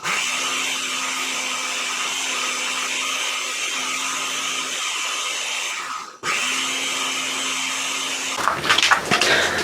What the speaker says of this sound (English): So I'm gonna finish grinding all these up.